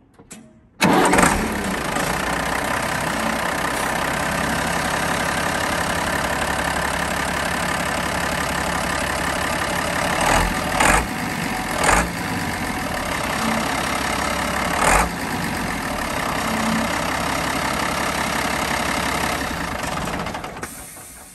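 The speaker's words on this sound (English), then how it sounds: "this is the turbocharged OM 366A motor with the UG365 transmission" A Unimog U1300L with a turbocharged OM 366A diesel engine cranks and fires after a second, then settles into a steady, loud, rumbling idle with a few brief revs along the way.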